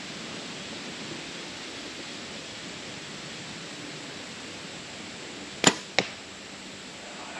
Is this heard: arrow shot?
yes